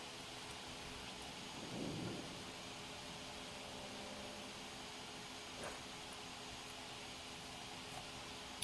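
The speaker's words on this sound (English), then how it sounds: "Sounds like it's starting to rain outside." Rain pours steadily outside in the video game Strange Antiquities, a constant hiss with a soft low rumble of thunder early on and faint ticks of drops, heard alone without talk.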